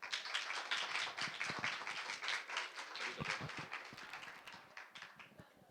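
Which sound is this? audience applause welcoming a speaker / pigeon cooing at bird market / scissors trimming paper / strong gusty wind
audience applause welcoming a speaker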